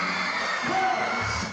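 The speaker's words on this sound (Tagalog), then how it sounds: "todo pa ang hiyawan sa isinagawang Kapuso Fiesta" Crowd cheering and shouting at the Kapuso Fiesta, a celebrity fan event, as a steady, dense roar of whoops and yells with no break.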